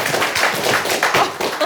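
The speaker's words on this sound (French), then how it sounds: "Lise et Megara, s'il vous plaît, sous les applaudissements." Studio audience applause greets two contestants walking onto the stage of a French acting competition show: a steady patter of many hands clapping, close and continuous, with no talk over it.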